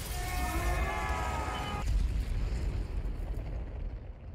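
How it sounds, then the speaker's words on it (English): A loud, roaring blast surges and then rumbles on in a dense, crackling wash of low noise, with a high whistling tone fading out early. "It's a big explosion."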